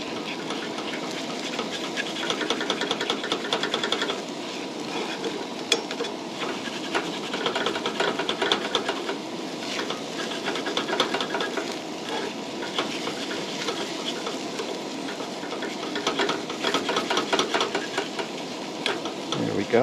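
Eggs being stirred and scrambled in a hot frying pan for a crispy bacon breakfast burrito, a steady close sizzle with scraping and stirring texture running throughout, no talking.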